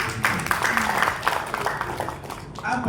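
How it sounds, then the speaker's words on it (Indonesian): Audience of women at a provincial Islamic study group gathering in Riau applauds, a steady wash of clapping that rises in bursts over three seconds while a speaker's voice carries on over it. "Tepuk tangan untuk ibu."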